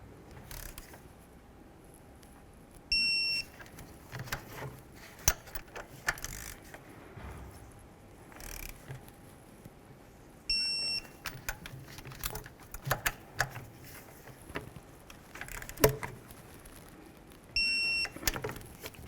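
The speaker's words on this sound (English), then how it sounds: "Let's torque these top bolts to 41 foot-pounds." A torque wrench tightens the top bolts to 41 foot-pounds on a 2008–2020 Dodge Grand Caravan water pump, with faint ratcheting clicks and three short electronic beeps spread several seconds apart.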